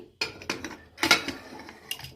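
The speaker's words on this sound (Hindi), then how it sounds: "तो हमने कुकर का ढक्कन लगा दिया है।" Metal clanks and scrapes as a pressure cooker lid is fitted onto the pot, a few sharp clinks close by, with no one speaking.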